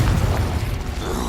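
Confringo fire spell exploding in the Hogwarts Legacy game, a short loud booming burst with rumbling low end that fades quickly.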